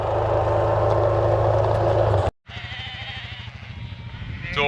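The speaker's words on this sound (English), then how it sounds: "They reckon sheep are dumb" Sheep bleating while being herded toward a gateway on a farm, with wavering calls rising over a steady, loud engine drone and a brief cut in the middle.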